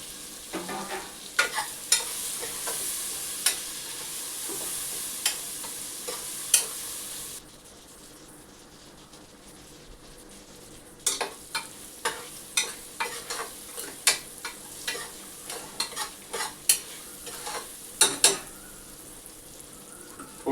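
Tomatoes and red chili sizzle in hot oil tempering for soybean biryani, a continuous close frying hiss broken by repeated scraping stirs of a spoon against the pan, with a brief calmer stretch midway and no talking.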